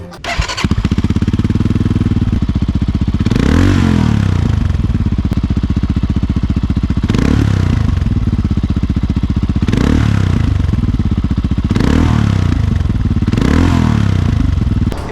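A Bristol Classic 400i motorcycle engine runs close by through its stock exhaust, fairly quiet, its low rumble swelling in repeated revs every few seconds.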